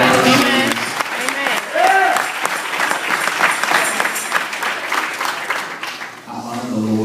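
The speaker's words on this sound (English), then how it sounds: "clap your hands for them." Church congregation clapping and applauding, a rhythmic crowd of hands heard loud alongside a preacher's raised voice and scattered shouts throughout.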